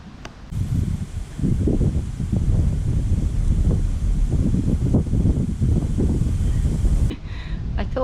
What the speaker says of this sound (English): the wind is just too windy. Things keep blowing away